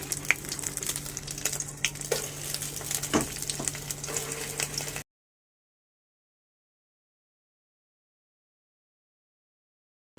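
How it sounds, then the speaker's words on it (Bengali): An egg fries in oil in a pan, giving a soft crackling sizzle with a few small pops and clinks, fairly faint, which cuts off abruptly about halfway and leaves silence. "egg fry"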